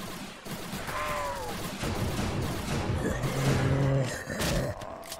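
Rapid video-game gunfire from an MP5, P90, starter pistol and Barrett rattles in bursts during a Roblox zombie-survival match, layered with other game sounds and effects at moderate loudness.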